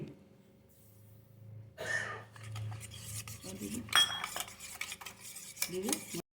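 Milk is mixed into batter in a bowl with a utensil, a few scraping and clinking strokes against the bowl after a quiet start, close and fairly soft, no talking.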